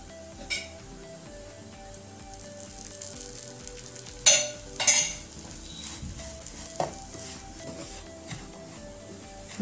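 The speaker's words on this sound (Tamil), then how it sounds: "வறுக்கும் போது கொஞ்சோண்டு நெய் சேர்த்துக்கலாம்" Semolina (rava) roasting in ghee in a pan gives a soft, steady sizzle with occasional scraping and clinks of a spoon against the pan, heard alone with no talk.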